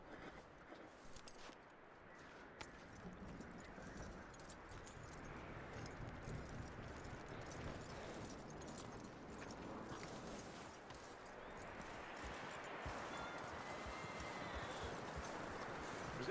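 Horse hooves clip-clop in the video game Red Dead Redemption 2, a steady rhythmic trot of muffled thuds over ambient outdoor noise, with no talking.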